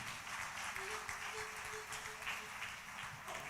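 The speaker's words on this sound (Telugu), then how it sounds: "చప్పట్లు కొడదాం, గట్టి కొడదాం." Guests applaud a newly married couple with steady, dense clapping, moderately distant and continuous, with a faint voice briefly audible underneath.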